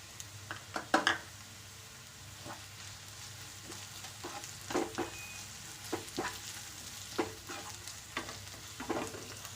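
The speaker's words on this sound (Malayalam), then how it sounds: "ഉള്ളി ഒന്ന് ചുവന്ന് വരുമ്പോഴേക്കും അതിലേക്ക് നമുക്ക് ഇഞ്ചി, വെളുത്തുള്ളി, പച്ചമുളക് ചതച്ചത് ഇട്ട് കൊടുക്കാം" Sliced onion frying with crushed ginger, garlic and green chili for a Kerala banana curry, a soft steady sizzle broken by repeated scraping stirs and clinks of a spoon against the pan, close and without speech.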